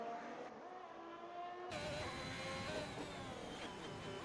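A Formula-style race car in a racing game sweeps through the Lesmos corners at Monza, its engine a steady high whine shifting pitch as it lifts and reaccelerates, loud and continuous with no talk.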